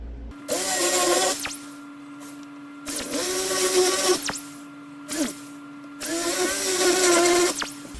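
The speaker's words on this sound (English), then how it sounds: "So I'm going to go around in super speed with this and drill the tops of these out" A power drill whines loudly in three sustained bursts of a few seconds each, drilling out spot welds on a rusty Ford truck firewall, with short pauses between, over a steady low electrical hum.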